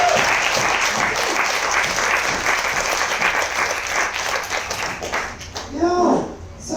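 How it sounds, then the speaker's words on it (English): Audience applause for the editors of a book on African feminisms at a panel event: dense, loud, sustained clapping for about five seconds, then tapering off as someone begins speaking. "let's just give them a round of applause"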